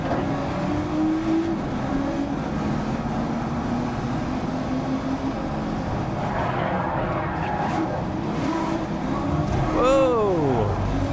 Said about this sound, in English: Cars in a crash.